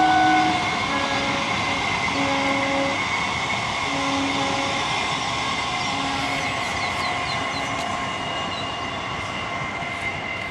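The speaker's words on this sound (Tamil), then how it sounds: "ட்ரெயின் இப்போ தான் வந்துக்கிட்டு இருக்குது" A local train rumbles steadily nearby as it approaches, its engine and wheels droning continuously with a sustained tonal hum, no voices over it.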